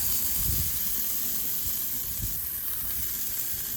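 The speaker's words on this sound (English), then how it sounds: "with just a little bit of that bacon grease, and then I'm going to put down a little butter, we are going to get our hash browns started" Frozen hash browns frying in butter and bacon grease on a Blackstone griddle, giving a steady, close, bright sizzling hiss with soft low bumps underneath.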